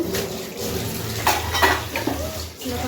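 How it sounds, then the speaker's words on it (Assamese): Dishes and utensils are washed at a sink, with running water splashing steadily beneath clinks of metal pots and spoons, close and continuous. "বাচন চাচন ধুই"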